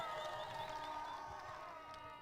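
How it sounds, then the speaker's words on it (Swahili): A crowd at an outdoor public engagement rally in Tigania West makes sustained, fairly loud noise, with a steady wash of clapping and cheering mixed with whistle-like tones throughout. "Wapi makofi kwa serikali yetu kwa kutuletea title deeds?"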